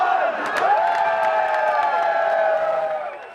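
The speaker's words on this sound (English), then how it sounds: "Apple employees rallied the crowd." A large crowd waiting outside a store for the iPhone launch cheers and whoops loudly, a sustained roar of many voices with sharp shouts and a few claps rising over it.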